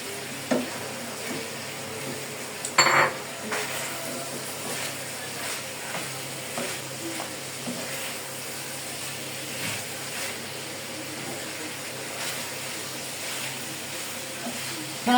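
Already-fried chicken pieces are stir-fried in sauce in a hot pan for chilli chicken, giving a continuous crackling sizzle with scattered clinks and scrapes of stirring and one sharp metallic clank, close and unaccompanied by talk.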